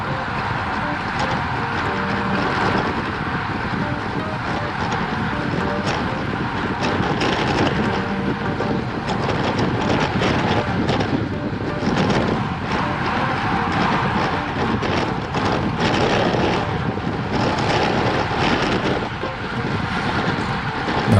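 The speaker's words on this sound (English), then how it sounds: "The wind is basically coming from straight in front." A steady headwind roars past a cyclist riding with a group on a climb, a dense, unbroken rushing noise that holds at a constant loudness throughout.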